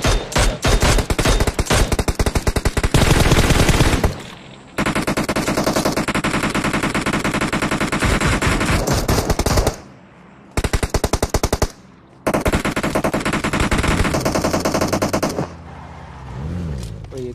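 Rapid automatic-weapon fire in the mobile battle-royale game PUBG Mobile, loud sustained bursts of gunfire broken by short pauses, ending in a quieter stretch.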